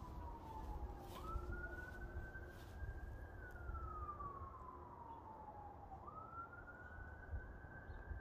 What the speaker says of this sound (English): but there's a siren.